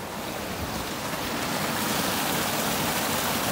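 A stream swollen with snowmelt water pours fast near an old mill, producing a steady, loud, broadband rush of flowing water that continues throughout with no pauses.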